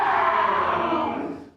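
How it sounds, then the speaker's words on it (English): A crowd of real people screams and yells together in a raw, loud burst that holds briefly and then fades out. "These screams are real."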